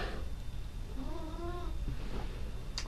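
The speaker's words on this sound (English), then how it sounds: "It's my cat contributing." A male cat lets out a drawn-out, wavering meow indoors, faint and fairly distant over steady room noise, with no talk.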